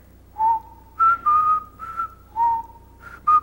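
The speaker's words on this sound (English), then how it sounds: "He's in a haunted house, and he's just whistling." Luigi from Luigi's Mansion whistles a simple, carefree tune while wandering a haunted house, a clear solo whistle of short melodic phrases with brief pauses between notes, close and alone.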